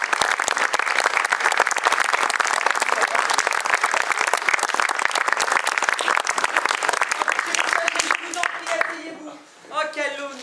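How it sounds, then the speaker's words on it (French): Sustained applause from a large audience fills most of the stretch, then fades as a voice begins speaking near the end. "merci d'accueillir sous vos applaudissements"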